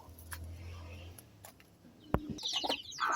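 Young chicks in a backyard coop giving a few brief high peeps and chirps near the end, after a quiet stretch with a low hum, a faint rustle and a sharp knock.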